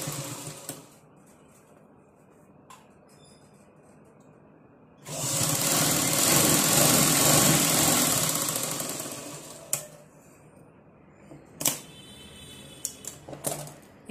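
Sewing machine running in one sustained burst of rapid stitching while a blouse is fitted at the side, with quiet gaps and a few short clicks and bursts before and after.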